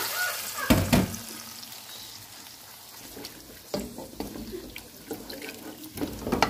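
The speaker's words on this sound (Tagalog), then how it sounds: "Lalagyan natin guys na kaunting tubig." Water runs and splashes into a cooking pan for pancit canton guisado, with intermittent clatter and stirring sounds against a quiet kitchen background.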